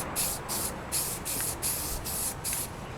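Primer spray-painted from a Rust-Oleum can onto an etched metal part from a Yamaha FZ600 motorcycle, sounding as a series of about seven short hissing bursts with brief gaps between them, close and alone.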